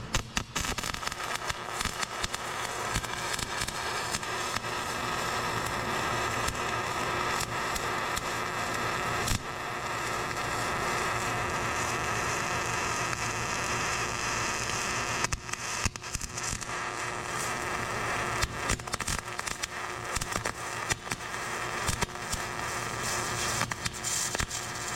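Wire-feed welder laying a low-voltage, low-wire-speed pass on a 6-inch fillet weld, a steady crackling sizzle like frying bacon that runs continuously and fairly loud for the whole stretch.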